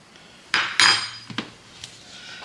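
A metal spoon clinks sharply against a coffee cup a few times while biscuit crumbs are sprinkled over a cream-topped coffee, bright taps followed by softer ticks.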